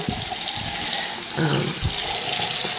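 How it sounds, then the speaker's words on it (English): Running tap water splashing into a sink as makeup brushes are rinsed, a loud close steady gush with a short dip where the flow shifts against the bristles, no talk over it. "Do a cool rinse."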